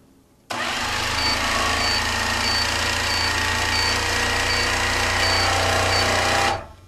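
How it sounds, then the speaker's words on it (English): Long-arm quilting machine with a turbo stitch regulator running steadily for about six seconds, a loud continuous motor whir with rapid needle chatter that swells slightly toward the end as it speeds up, then cuts off. "the machine will start stitching, so I need to keep moving it"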